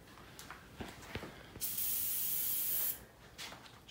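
DuraCoat paint sprayed onto a 6.5 Creedmoor rifle in a hot workshop: a loud, steady hiss of over a second, with fainter spray bursts before and after and fan noise underneath.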